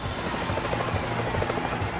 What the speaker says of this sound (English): A police helicopter joins the chase